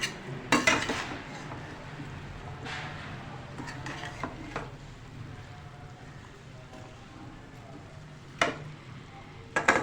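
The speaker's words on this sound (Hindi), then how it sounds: "अब हम इससे आलू डाल के अच्छी तरह मिक्स करेंगे।" Quiet scraping and clinks of a spoon stirring potatoes into mixed vegetables, peas and carrots in a pot, with a few louder knocks against the metal rim.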